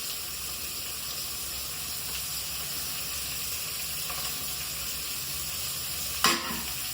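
Potatoes and other ingredients sauté in a pan for duck curry, producing a soft, steady sizzle throughout. It ends with one brief, sharp clank of a utensil against the pan.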